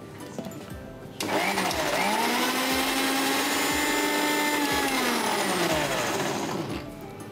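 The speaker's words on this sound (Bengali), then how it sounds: "আমাদের কিন্তু তাহলে শুধুমাত্র ওই আইসিং সুগার আর কোকোনাট ক্রিম দিয়ে এটাকে ভালো করে ব্লেন্ড করে নিতে হবে" Kitchen blender whirring as it blends coconut cream with icing sugar for a frozen fruit dessert, starting abruptly and running at a steady loud whine for several seconds before winding down.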